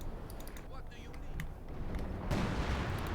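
Distant, muffled gunfire and heavy artillery rumble from a Company of Heroes 2 battle involving a Panther tank roll on under a commentator's talking, swelling louder toward the end.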